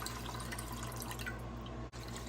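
Liquid drains through a strainer, trickling and dripping steadily close by, a continuous wet patter with no voices.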